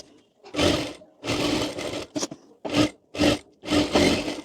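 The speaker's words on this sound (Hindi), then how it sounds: "उसको यहाँ पर रख कर यहाँ पर पूरे में सिलाई कर लेंगे हम" A sewing machine stitches a fabric strip onto a kurti in short repeated bursts, with about six runs of close, loud mechanical whirring separated by brief pauses.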